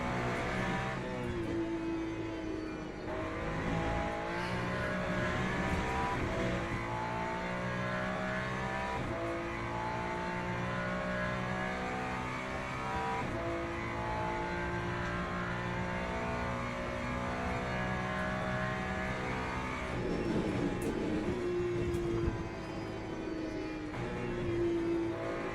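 Race car engine in the Le Mans Ultimate video game, loud and continuous, revving up and down through shifts and corners with brief drops as the car brakes, alone without talk.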